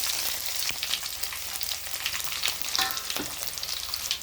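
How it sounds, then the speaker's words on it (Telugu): Tempering spices and four or five garlic cloves frying in hot oil for tomato chutney, a dense close sizzle with scraping stirs and a few sharp clatters, no talk. "ఆయిల్ వేడెక్కైంది ఇప్పుడైతే తిరగమాత దినుసులు అన్నీ వేసేసుకుందాము"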